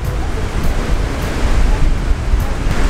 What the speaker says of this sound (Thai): แต่คลื่นลมแรงมากครับ